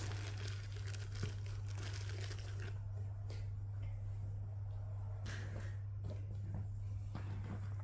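A packet of tissues crinkles while being put into a small designer handbag, with close, faint plastic rustling over a steady low hum.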